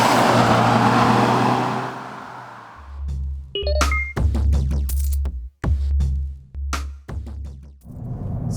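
A Volkswagen GTI engine drones under load while driving, with a loud low hum broken by sharp gear-change dips and brief pauses, plus a few faint electronic beeps in the cabin.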